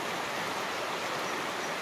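Fast, high river water rolling past outdoors on a cold day after rain, a steady broadband rush that stays loud and even with no breaks.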